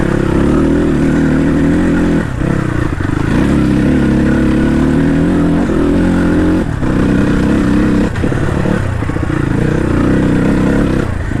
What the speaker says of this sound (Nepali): मैले थ्रोटल मिलाएरै खेलाइरहेको छु